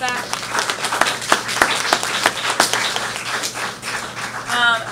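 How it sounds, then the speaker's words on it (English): A round of applause at an elder services meeting, steady clapping from a crowd with a voice speaking over it. "Let's give her a round of applause"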